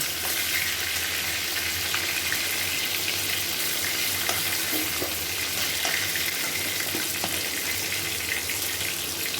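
Oil sizzles and crackles steadily in a pan after frying fish, a continuous bright frying hiss with occasional small pops.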